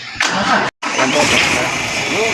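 A car engine with a converted mechanical turbo wastegate cranks and catches after a brief silent gap, then settles into a loud, steady idle close by with a faint rising whine; a voice talks over it.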